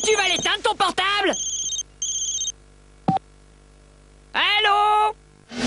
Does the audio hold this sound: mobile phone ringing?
yes